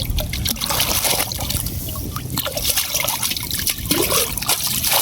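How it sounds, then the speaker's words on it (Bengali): Water runs and trickles steadily as fresh fish are washed clean by hand, a continuous close splashing flow with small drips and slops throughout. "মাছগুলা মানে ধুয়ে নিতেছে আর কি পরিষ্কার করে"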